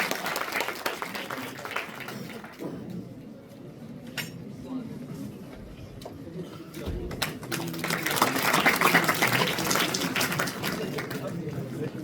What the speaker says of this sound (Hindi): तो एक बार फिर से आदर्श के लिए जोरदार तालियां हो जाए।